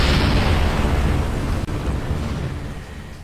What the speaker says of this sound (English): a bit of an explosion is a nice way to end the video